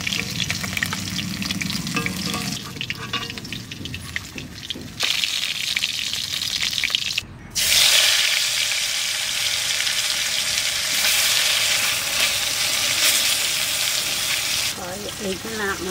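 Pieces of katla fish fry in a hot pan, giving a loud, steady, crackling sizzle that runs almost throughout, with one brief drop near the middle before the hissing resumes at full strength.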